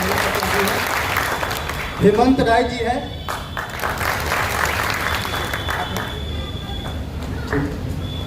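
Crowd at a political youth gathering in Samastipur applauds as candidates are introduced. Steady, fairly close clapping runs throughout, with someone speaking over it through a loudspeaker.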